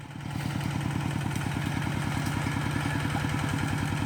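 A small single-cylinder engine on a three-wheeled walk-behind tractor chugs steadily at a fast, even rhythm, loud and close, with a rattling clatter throughout.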